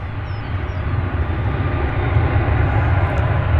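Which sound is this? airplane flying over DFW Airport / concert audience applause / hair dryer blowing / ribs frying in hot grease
airplane flying over DFW Airport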